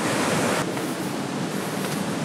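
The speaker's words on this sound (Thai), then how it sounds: "อุ้ยน่าเล่นกันนะคลื่นแรงอ่ะ" Powerful waves crash on Nai Thon beach, Phuket, making a dense, close wash of surf that stays loud and even throughout the short stretch, with no voices.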